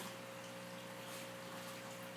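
Water runs steadily into a container being filled for an aquarium water change, a faint continuous gushing hiss with a pump-like hum beneath it and no voices.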